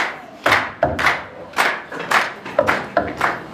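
Congregation at a church welcome program clapping for a choir, in uneven bursts and swells of handclaps with a few sharp accents, fairly close and without talk.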